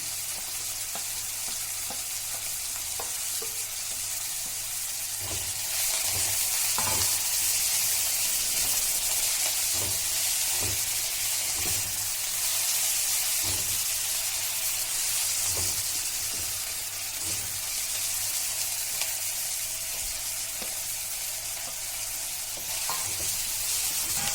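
Garlic, ginger, coriander, tomato and masala sizzle steadily in a pan for stuffed brinjal curry, a loud continuous fry with scattered stirring scrapes and clicks throughout.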